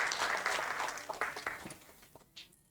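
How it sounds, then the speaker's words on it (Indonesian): A church congregation applauding, a brief scattered burst of clapping that thins out and dies away quickly. "Tepuk tangan buat Tuhan Yesus."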